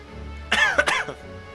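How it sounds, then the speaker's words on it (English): A man coughs during a video game session, a short burst of two or three harsh, close coughs that ends in a throat-clearing rasp, with quiet background hum before and after. "just coughing like crazy while I'm trying to figure out what I want to do"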